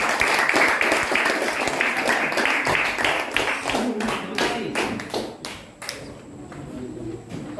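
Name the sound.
classroom applause for a group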